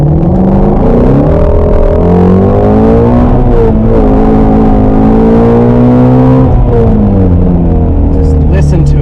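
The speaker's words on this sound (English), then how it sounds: "I'll rev it out here and let you listen to it" A 2020 Shelby GT350 V8 revved hard while parked, loud rising and falling harmonic engine roar climbing to high revs several times, with a brief crackle near the end.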